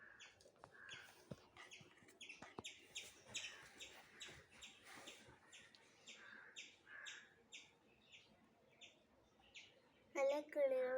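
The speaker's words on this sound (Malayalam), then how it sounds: "നല്ല കിളികളുടെ ഒക്കെ സൗണ്ട് കേൾക്കുന്നുണ്ട്." Small birds chirp and tweet outdoors in quick, repeated calls, moderately distant, with faint background noise and a brief louder sound near the end.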